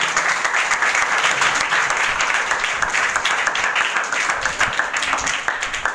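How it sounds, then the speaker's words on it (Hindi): A congregation at a Sukkot Feast of Tabernacles gathering claps loudly and steadily for Jesus, a dense, sustained wall of applause that continues without pause. "यीशु के लिए जोरदार तालियां।"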